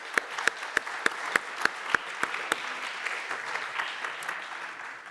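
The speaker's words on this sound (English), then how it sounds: "round of applause." An audience at an evening art-history lecture on Aztec art in a foundation lecture series breaks into applause, a few sharp individual claps at first quickly merging into steady, moderately loud clapping.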